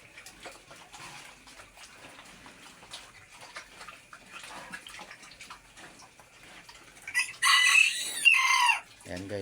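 Chickens on a backyard farm cluck faintly and steadily in the background, then a rooster crows loudly and close by near the end, followed by a short low thump.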